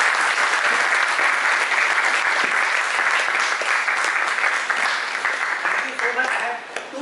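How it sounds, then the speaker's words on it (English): Audience applause for a speaker at a talk on environmental jurisprudence in India: dense, steady clapping from a room, loud at first and thinning toward the end, with some voices underneath. "Let's give Geetanjoy a big round of applause."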